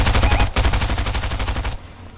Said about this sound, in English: Can somebody shoot at this guy, please?